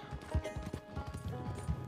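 Horse hooves clip-clopping in the Red Dead Redemption 2 video game, a quick run of close, uneven thuds over a steady background hum.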